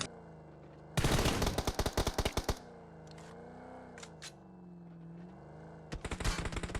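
Rapid automatic gunfire in the PUBG Mobile battle royale game, loud dense bursts of several seconds followed by a quieter stretch with scattered shots, then another burst at the end.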